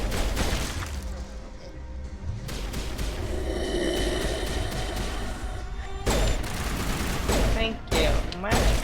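Rifle gunfire in the video game Mass Effect Legendary Edition, a rapid fusillade of loud shots that runs through most of the stretch with a busy game soundscape behind it and brief pauses.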